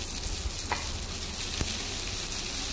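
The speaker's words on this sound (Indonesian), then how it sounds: "Saya masukkan kacang bendi." Okra stir-frying in a pan with anchovies, a steady soft sizzle with a couple of faint stirring taps, no talk.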